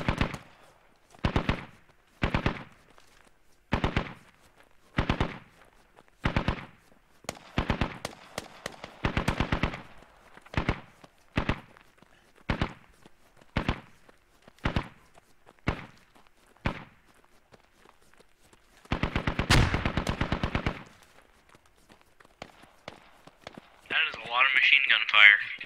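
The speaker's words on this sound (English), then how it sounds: "I hear AK shots behind us." Bursts of AK rifle fire in the tactical shooter Squad crack out in repeated short volleys at an even rhythm, with a longer sustained burst near the end and a brief rustle afterward, no talk heard.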